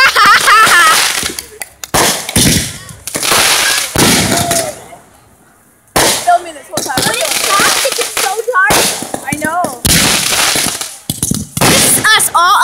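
Fourth of July fireworks fired from a cannon pop and crackle in rapid loud bursts, with a few brief lulls, while people talk excitedly throughout.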